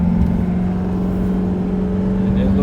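A 2017 Ford F-250 truck, rebuilt after a wreck, cruising on a test drive with a steady loud engine drone and road hum heard from inside the cab.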